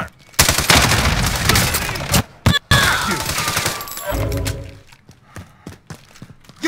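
Bursts of automatic gunfire in the video game Warzone, loud rapid rattling fusillades broken by brief pauses, then fading into scattered single shots and thuds.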